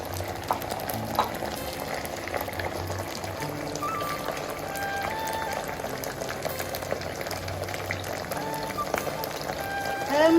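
Masala with almonds sautés in a village cooking pot for chicken biryani, giving a continuous close bubbling sizzle with small crackles, steady throughout, with a voice talking over it.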